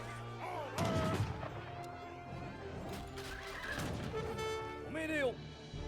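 Musket volleys from musketeers in an Age of Empires 3 battle. A few sharp shots crack out over battlefield clatter, beneath steady talk from a commentator.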